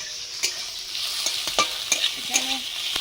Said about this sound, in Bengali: পেঁয়াজটা ভাজা হোক, তারপর শাকটা দিয়ে দেবো